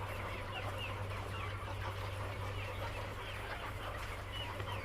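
Laying hens on a poultry farm cluck continuously in a dense, steady chorus, many birds at once, under a constant low hum.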